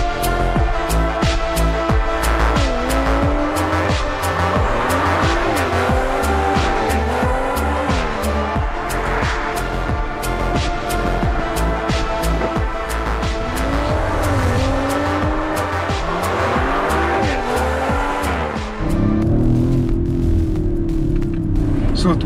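Audi RS 5 Sportback engine accelerating hard and climbing through repeated revving surges with gear changes, loud and close, under occasional talk.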